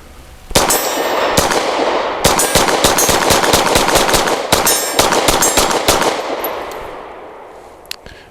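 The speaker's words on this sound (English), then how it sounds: "See if I can shoot better this time and try to burn it down." A Wilson Combat SFT9 pistol fires in a fast string of shots at steel targets, sharp close reports with ringing metallic clangs, then a brief pause and a final shot.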